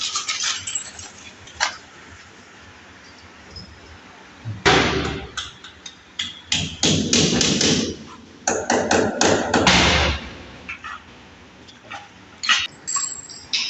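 Hammer blows drive rawl plugs into a wall for wash basin fixing nuts, with isolated knocks early, then dense runs of sharp, close strikes in quick clusters with brief pauses between.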